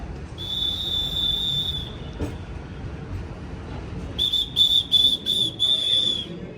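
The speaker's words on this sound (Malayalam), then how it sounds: "വിസിലൊക്കെ അടിച്ചാണ് വരുന്നത്." Madurai–Guruvayur Express sounding its whistle while pulling into a station platform: one long shrill blast, a pause, then a series of short repeated blasts over a low rumble of the approaching train.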